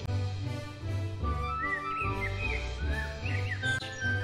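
Little birds chirp and tweet in a children's bedtime story, a quiet cluster of short, high calls scattered over a soft musical background.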